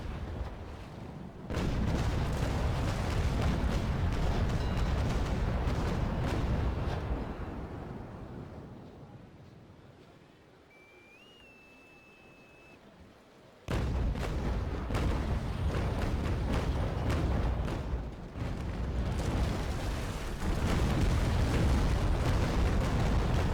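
Heavy ship cannon broadsides boom from a sailing warship in the naval combat game Naval Action, loud sustained rumbling volleys that fade into a quieter lull before another thunderous barrage erupts and rolls on.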